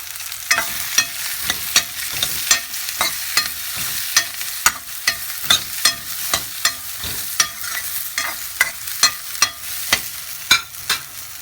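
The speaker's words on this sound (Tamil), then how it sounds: "பச்சை மிளகாயும் தான் இந்த காயெல்லாம் எல்லாத்தையும் நல்லா வதக்கிடணும்" Mixed vegetables and green chillies sautéing in a pan for a vegetable kuzhambu, a steady sizzle broken by repeated scraping stirs of a spoon at a fairly even rhythm, close and moderately loud, with no talking.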